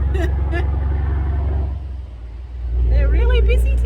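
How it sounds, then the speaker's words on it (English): A truck passes on a busy road, its low engine rumble swelling and fading in the foreground while a person talks over it. "Here comes another truck."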